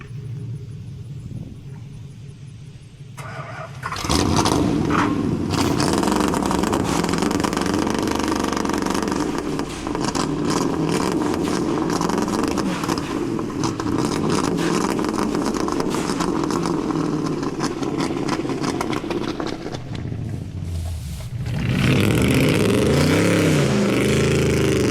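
A V8 Ford F-150 truck on 40-inch mud tires cranks, catches and roars into a sustained loud rumble with revving swells while stuck in mud, then drops off and surges again near the end.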